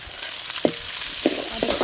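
Onions and tomato saute in a pan with garlic and cinnamon for a village-style greens kadayal, a steady close sizzle broken by a few sharp scraping stirs of a spoon.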